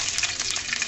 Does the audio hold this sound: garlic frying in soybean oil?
yes